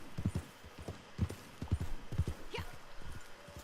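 Horse hooves clip-clop at a steady walking rhythm on a scrawny horse in the online mode of the video game Red Dead Redemption 2, with clear, fairly close hoof strikes and a faint rising tone near the end.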